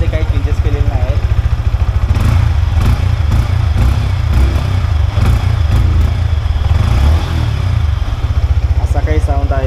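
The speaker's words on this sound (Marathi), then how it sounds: "तर आता आपण याचा एक्झॉस्ट नोट बघूया कसा आहे" A 2024 Yamaha MT15 motorcycle idles nearby with a steady, throbbing exhaust note and a few light blips of revving, loud and continuous, while someone talks at the start and end.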